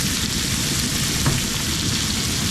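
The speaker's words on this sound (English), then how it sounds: "Got my onions sauteing over here in the corner." Onions sauté in a pan at a truck campsite, giving a steady, close sizzling and crackling that continues evenly throughout, with no voices.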